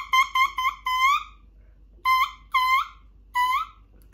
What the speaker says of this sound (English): this is what it sounds like if you just play the reed